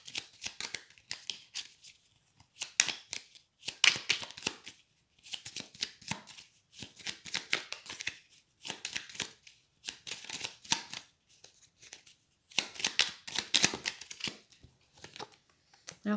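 Tarot cards being shuffled for a reading, heard as bursts of crisp, papery riffling and flicking in irregular clusters with short pauses between, fairly close and quiet, with no talking over them.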